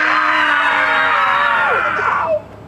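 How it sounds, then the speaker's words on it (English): A loud, sustained high-pitched scream heard on a deck garden, holding steady for about two seconds before sliding down and cutting off abruptly. "And then we heard a loud scream."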